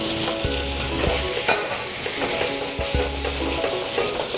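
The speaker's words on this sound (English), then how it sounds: "I'll add the brinjal." Brinjal frying and being stirred in a pan of softened spiced tomatoes, a steady close sizzle broken by spoon scrapes and knocks against the pan, no talking.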